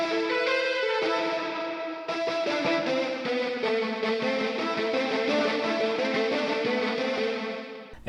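A heavily distorted brass sample plays a continuous line, buzzing, gritty and saturated like an overdriven electric guitar, loud and sustained with no voices.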